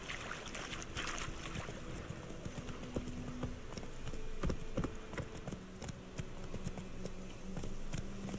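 Roach the horse gallops in The Witcher 3 with steady, rapid clip-clop hoofbeats at moderate distance over a busy game ambience, with no one speaking.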